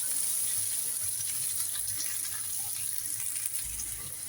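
Onion sizzles steadily in a pan of hot oil, a soft continuous frying hiss with faint stirring, close and alone.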